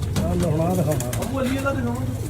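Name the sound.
pigeons cooing, pure breeder pigeons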